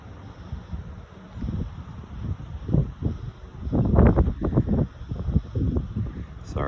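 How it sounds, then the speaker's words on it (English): Outdoor wind buffets the microphone in irregular low rumbling gusts that swell and fade, loudest in the middle, over a faint steady background hiss. "it's a little bit windy here today"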